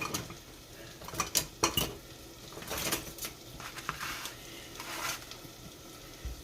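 A knife picked up among plates and bowls in a kitchen: scattered close clinks and clatters of cutlery on dishes, a few sharp knocks over quiet background, no talk.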